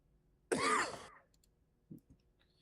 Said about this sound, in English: why do you cough so loud?